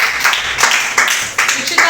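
Children in a classroom clap together in a short, loud burst of uneven hand claps, close by and lasting under two seconds.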